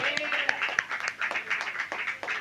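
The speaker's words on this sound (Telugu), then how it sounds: "చప్పట్లు కొట్టండి ఇప్పుడు, గట్టిగా గట్టిగా." A church congregation claps loudly and rhythmically during a pastor's sermon, a fast run of sharp hand claps mixed with voices throughout.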